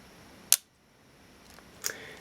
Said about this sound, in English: And then we can fire the shutter.